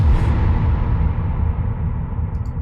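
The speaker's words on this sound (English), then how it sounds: "your impact should sound like this" Heavy layered impact effect with a low reverb kick underneath, a loud booming hit whose dense low rumble and reverb tail sustain evenly for the whole stretch with no voices.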